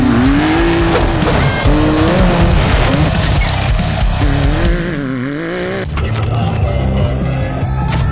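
A Can-Am Maverick X3 off-road vehicle engine roars loudly and continuously with shifting, rising and falling revs, near and dense throughout, with possible tire squeal.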